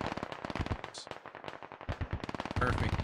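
A heavy gun fires rapid bursts in the tactical shooter game Squad, close and punchy, with brief pauses between strings of shots.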